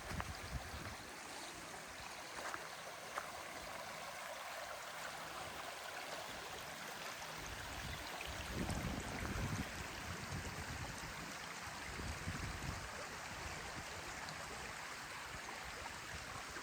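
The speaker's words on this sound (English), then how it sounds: "Just listening to the running water is so calming." A rain-fed stream in a Peak District village runs steadily with a continuous broad rush and soft gurgling, fairly close and unbroken.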